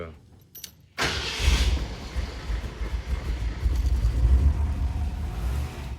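A Ford Bronco's 302 V8 fires up after a second of quiet, then runs loud and close with a deep, uneven burbling rumble that holds steady throughout.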